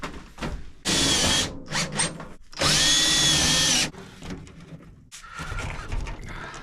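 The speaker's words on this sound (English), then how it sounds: "So let's put some screws in there. What we're using is self-tapping screws with the bigger head." A power drill drives large-headed self-tapping screws into metal in two loud, sustained whirring bursts of about a second each, with shorter trigger blips, clicks and handling noise between them.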